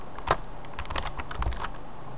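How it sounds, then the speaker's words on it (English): Typing on a computer keyboard, a rapid run of close, crisp key clicks with one firmer early keystroke, steady and loud, with no voice over it. "Next thing we're gonna do is type in cd"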